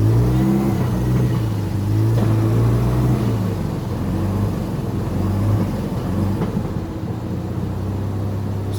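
A Mazda RX7 FC rotary engine pulls in second gear at low road speed, a loud, close, steady drone with a rising then settling pitch and continuous rumble throughout.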